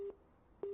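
A telephone tone sounds after a call drops during a live Haryana Lok Sabha election vote-count broadcast. It is a steady pitched beep, a short burst at the start and another after a gap of faint line hiss, with no talk.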